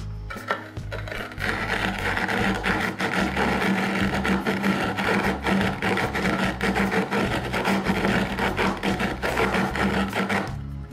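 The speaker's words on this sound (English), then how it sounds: "I want to grind this stuff up" A steady mechanical grinding churns mycorrhizal fungi granules into finer particles, one continuous rough whirring rasp that holds even and fairly loud for about ten seconds and then cuts off.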